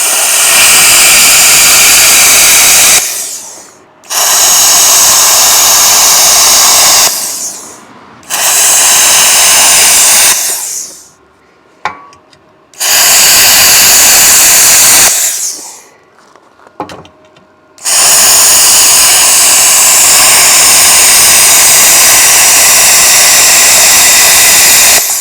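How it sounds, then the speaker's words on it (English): A Vevor CUT-50P pilot arc plasma cutter cuts thick painted aluminum with a loud, harsh, roaring hiss in long bursts, broken by several abrupt pauses and short sputters before the final sustained blast. "now I'm gonna try to cut this aluminum"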